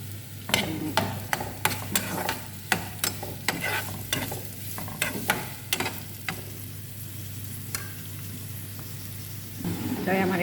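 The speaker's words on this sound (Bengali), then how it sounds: "এখন পেঁয়াজ আর কাঁচামরিচটা দিয়ে দিলাম" Onion and green chili frying in white oil in a pan, a loud close sizzle with rapid clattering stirs of a spoon for several seconds before settling into a softer, steady crackle.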